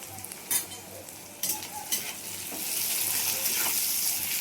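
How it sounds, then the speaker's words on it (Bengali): Onions frying in oil in a pan for a home-cooked chicken dish, a steady bright sizzle that swells and thickens toward the end, broken by a few sharp stirring scrapes near the start. "হয়ে গেছে আমার পেঁয়াজটা ভাজা"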